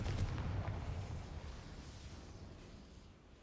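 A Confringo fire spell from Hogwarts Legacy bursts with a deep, rumbling explosive whoosh that swells at once and slowly fades over a few seconds.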